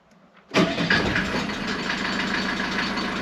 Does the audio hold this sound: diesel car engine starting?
yes